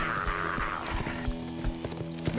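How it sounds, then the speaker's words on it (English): Horse hooves clip-clop steadily through a rhythmic gallop with an occasional whinny, close and continuous over a low outdoor rumble with no talk. "Horse is 200 meters behind."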